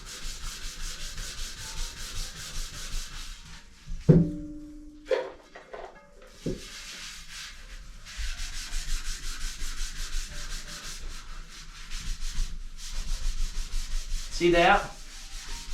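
A ruined, stained Revere Ware pan is scrubbed by hand in close, rhythmic rubbing strokes, broken by a short pause with a few clinks before the scrubbing resumes; a voice speaks briefly.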